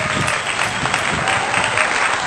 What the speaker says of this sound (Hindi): जोरदार तालियां बजाकर उनका अभिनंदन।